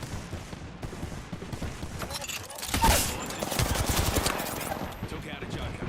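Rapid bursts of automatic gunfire crackle and pop in a video game shootout, dense and continuous with overlapping volleys, some near and loud, others more distant, under occasional speech.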